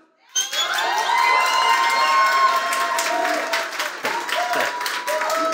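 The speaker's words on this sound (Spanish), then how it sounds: "Aplausos para el entrevistador." A talk-show audience bursts into loud cheering and applause for the interviewer, a sudden onset of clapping, shouts and whoops that carries on energetically.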